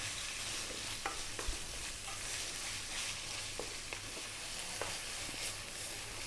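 Ground chicken stir-fried on lively heat in a hot pan, a steady close sizzle with frequent scraping and stirring clicks throughout and no talking.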